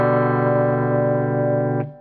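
Electric guitar chord, strummed once and left ringing with a thick, distorted, effects-laden sustain, held steady and loud for nearly two seconds before being muted.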